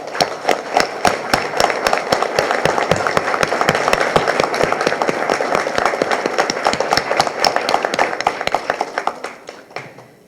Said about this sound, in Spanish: les pido que les demos un aplauso a todos los 8 enlaces de la escuela itinerante